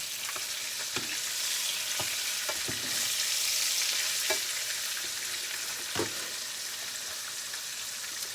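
Cube steak browning in a frying pan over moderate heat, a steady close hiss of searing fat with occasional sharp pops and crackles spaced through it.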